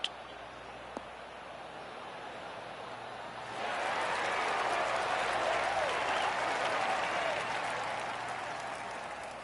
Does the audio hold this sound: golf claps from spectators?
yes